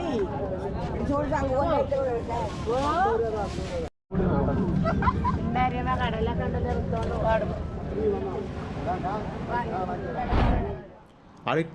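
Crowd hubbub at a harbour fish market during a fish auction on the Kerala coast, with many overlapping voices calling and chattering continuously nearby, a brief cut near the start, and boat or engine rumble underneath.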